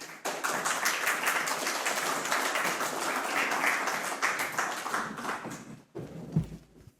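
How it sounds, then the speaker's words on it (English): Steady audience applause, many hands clapping densely for about six seconds before it tapers off and stops. "give an applause for them"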